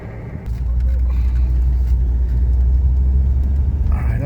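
A 1980 Mercedes 300SD diesel car accelerates on Georgia 400, a steady, loud low engine drone and road rumble from inside the cabin, with talking over it.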